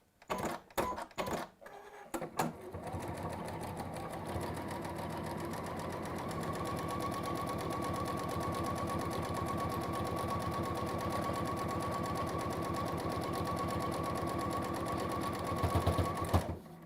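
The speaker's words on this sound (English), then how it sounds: "And then you sew your 1/4 inch along there." A domestic sewing machine stitches a quarter-inch seam through lined fabric, starting with a few short stuttering bursts, then running in a steady, fast, close whirring chatter for about fifteen seconds.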